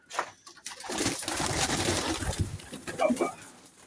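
Pigeons coo softly in a pigeon loft, brief throaty calls near the end, mixed with faint rustling and voices of people talking nearby.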